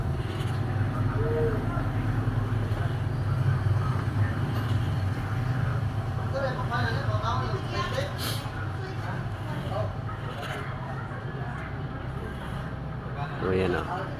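A Suzuki Skydive motorcycle engine with a hard-starting fault runs at a steady idle, giving a continuous low rumble under someone talking nearby.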